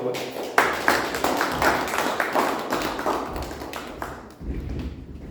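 A Toastmasters club meeting audience gives a dense round of applause for the Toastmaster of the day, steady and fairly loud for about four seconds before fading as a speaker begins talking.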